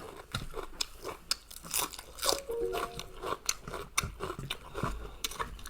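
Someone chews crunchy salad vegetables, a steady run of sharp close crunches and bites with a few soft pauses between mouthfuls.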